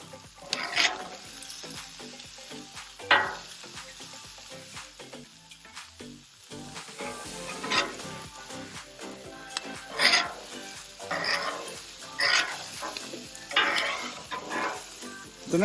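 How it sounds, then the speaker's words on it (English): Vegetables sizzling and frying on a flat top grill, a steady crackling hiss with repeated scraping and stirring strokes from a spatula, close and fairly loud, with no talking. "put your flat top as low as you can get it while you're cooking the veggies"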